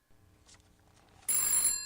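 A telephone rings in the computer game Phantasmagoria (2.1 version). After a quiet lead-in, a single loud electronic ring bursts in sharply near the end and holds to the close.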